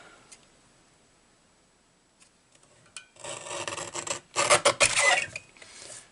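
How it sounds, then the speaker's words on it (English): Scissors or a blade cut through a cardstock greeting card panel, making close rasping cuts in short bursts over the last few seconds after a near-silent start, with no talking. "And then I'm going to cut that "You're So Cute" off."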